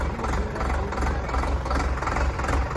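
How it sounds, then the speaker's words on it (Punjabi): An Indofarm 3060 60 HP tractor engine idles with a low, steady rumble and faint knocking pulses, running continuously at close range. "60 HP ਵਾਲਾ ਟਰੈਕਟਰ ਹੈ ਜੀ"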